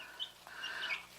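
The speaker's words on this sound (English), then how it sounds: "So I've got 5 chicks here." Several baby chicks, Australorp, Wyandotte and Cochin crosses, give high faint cheeps, two or three brief peeps close by over a low steady background hum.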